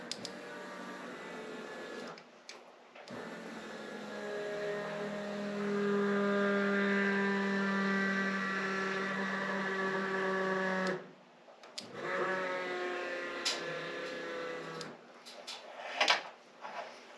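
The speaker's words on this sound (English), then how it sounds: "I think we're getting fuel up to the front fuel pump. I think that's what the noise is." A Ford Econoline van's front fuel pump runs with a steady whine and harmonic hum, cutting out briefly near the start and again around the eleventh second before resuming with a few clicks and knocks.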